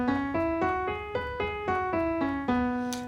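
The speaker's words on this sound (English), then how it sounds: "They use a group of notes called pentatonic scale" A Japanese pentatonic scale unfolds as a run of about ten evenly spaced, bright plucked or struck notes, each ringing with rich overtones, played solo in a steady rhythm.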